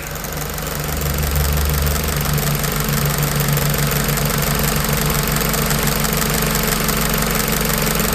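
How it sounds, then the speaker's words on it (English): A fluid pump runs while air is bled from the system, giving a loud, steady, close droning hum with a rough low rattle throughout and no pauses. "You'll find once all the air is out of the system, the pump will then become much quieter."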